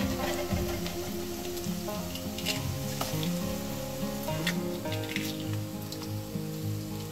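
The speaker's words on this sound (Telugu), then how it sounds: "ఇప్పుడు మనం 1/4 ఎగ్స్ కొట్టి ఇందులో వేసుకుందాం" Beaten eggs hit a hot pan with dry prawns for egg bhurji, giving off a continuous crackling sizzle with scattered sharper pops, close and fairly even throughout.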